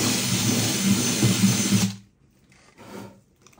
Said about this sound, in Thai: ใช้แค ่สว่านอันนี้นะครับเจาะที่เปียโซ่ตรงนี้เจาะเข้าไปเลย